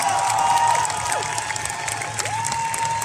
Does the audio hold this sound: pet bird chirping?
no